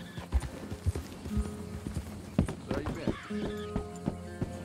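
Horse hooves clip-clop in the video game Red Dead Redemption 2, with uneven thuds near at hand, a brief whinny and other game sounds mixed in.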